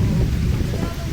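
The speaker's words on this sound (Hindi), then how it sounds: "सुनाई भी दे रहा होगा कितना जोर जोर से तड़क रहा है। तो वेट कर रहा हूँ अभी बारिश रुकने का" Heavy rain pours steadily through a Meghalaya jungle while loud, rolling thunder rumbles close by, forming a dense, constant roar with no pauses.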